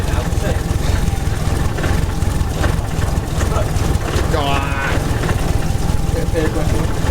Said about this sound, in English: You can hear the unequal header length a lot more.